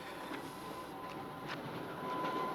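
Steady low rumble of a train running, with faint rhythmic clicks of the wheels over rail joints, continuous and fairly quiet, no talking.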